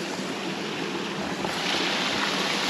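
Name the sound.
waterfall on Dartmoor, Devon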